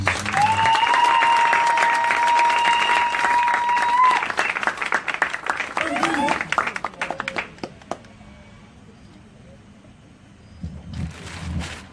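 Loud, dense applause and cheering fill a church crusade gathering in Ebolowa for several seconds, with a long whistle early on. The clapping then thins to scattered claps and quiet, and a voice speaks near the end.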